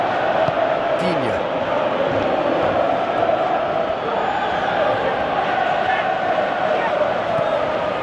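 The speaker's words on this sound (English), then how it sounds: "Crowd appreciates good football all round there" A stadium crowd roars continuously in a PES 2017 football match between Stoke City and Barcelona, a dense steady wash of cheering that holds loud for the whole stretch, with commentary layered over it.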